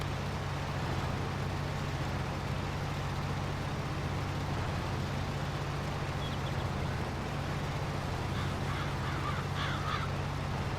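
Crows caw intermittently in Farming Simulator 22 while bunker work goes on, set against a steady low engine drone and broadband machinery noise that runs throughout.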